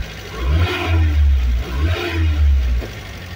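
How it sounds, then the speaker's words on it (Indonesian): A car engine, just repaired at the RPM gauge, runs and revs close up in two strong swells of rising and falling engine roar with a brief dip between them, settling at the end. "Ini setelah mesin saya hidupkan"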